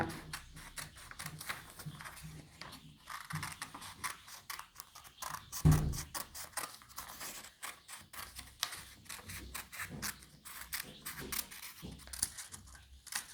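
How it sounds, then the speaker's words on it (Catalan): Paper being cut with scissors into a circle for origami, a run of close, quick snipping and crisp rustling clicks with one louder thump midway, no talking. "Vaig a retallar el cercle, que es vegi bé a càmera."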